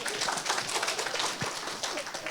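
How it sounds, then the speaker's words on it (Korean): Church congregation in a Korean Sunday service clapping together, a fairly quiet, rolling patter of many hands heard at some distance and sustained for a couple of seconds. "박수 한번 칩시다."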